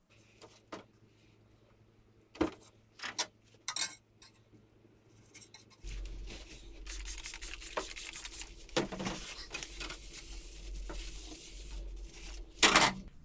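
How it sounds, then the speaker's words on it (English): Scrub brushes scrape residue off freeze dryer parts, with scattered clinks and rattles of metal early on, then a sustained gritty scrubbing with sharp knocks near the end. "And then I think it's time for the scrub brushes."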